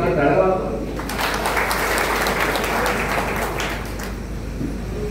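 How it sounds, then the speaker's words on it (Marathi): At a political rally in Degloor, Nanded district, a crowd breaks into loud sustained applause, dense clapping that swells after a moment and carries on for several seconds, with a voice heard briefly at the start. "जोरदार टाळ्या वाजवा."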